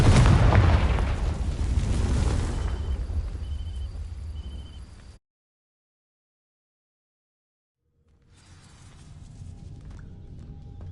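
A Confringo spell in a Harry Potter video game bursts as a loud, roaring explosion that rumbles for several seconds, then cuts to silence before quieter ambient sound returns.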